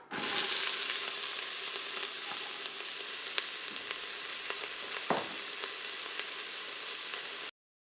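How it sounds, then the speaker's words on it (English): Onions sizzle steadily in hot olive oil, a constant close frying hiss with occasional small pops and crackles, no voices. "We're gonna add our olive oil. We're gonna add our onions now."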